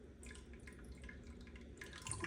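Whey drips from fresh mozzarella made from heated milk and vinegar onto a drip plate, giving faint, scattered wet drops and trickles over a quiet kitchen background, growing a little busier near the end.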